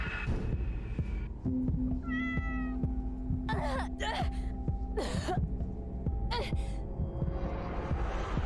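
Game cat from DreadOut 2 meows in a short rising-falling cry, followed later by a few sharper yowls over a steady low hum and throbbing, heartbeat-like game ambience.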